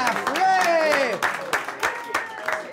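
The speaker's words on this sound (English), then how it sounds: "Give yourselves a round of applause" A crowd applauds and cheers at a stage show, with bursts of clapping under a host's voice and a loud whistle or cheer rising over the noise.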